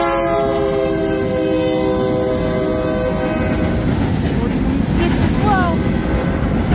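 CN freight train L563 arriving at Ladysmith, its horn blaring in long steady blasts over heavy rumbling wheels, then the horn stops and rolling rail noise continues close by.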